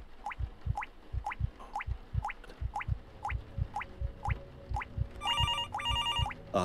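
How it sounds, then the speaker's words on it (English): Electronic phone bell rings in bursts near the end of a quiet spooky video game scene, over a steady rhythm of water drips. "Oh, that phone sound."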